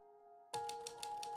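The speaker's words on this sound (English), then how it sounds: "The sound of Dan's typewriter drifting down to the den was a constant reminder of Dan's priorities." A typewriter clacks in a quick, steady run of keystrokes, roughly five or six evenly spaced strikes, close and clear, starting abruptly after a short hush with a low background hum and no voices.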